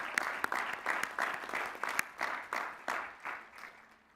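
An audience at a graduate commencement ceremony applauds the master's degree graduates, a moderate patter of clapping hands rising and settling in rhythmic waves with a few louder claps standing out.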